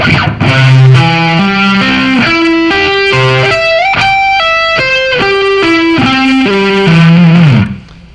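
Distorted electric guitar plays a run of arpeggiated chord shapes, notes rising and falling in steady succession, loud and sustained before ending abruptly.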